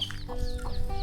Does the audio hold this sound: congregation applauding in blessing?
no